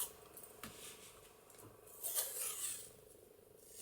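Scissors cutting a straight line through paper or seam material for a multi-pocket journaling book, heard as a couple of faint, brief snips close by with a brighter crisp cut near the middle, no talking.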